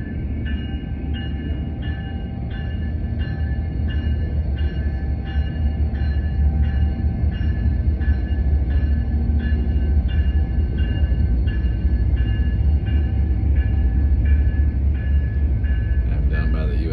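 A train passing near the USS Kidd in Baton Rouge, Louisiana, a loud continuous rumble of rolling cars with rhythmic wheel clatter and a faint high squeal, steadily building over the clip.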